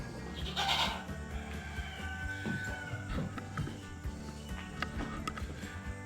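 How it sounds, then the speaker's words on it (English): Several small goats bleat in short, high cries scattered over a few seconds, fairly close, against a quiet outdoor background. "these little goats are so tough, it is unreal what they can do"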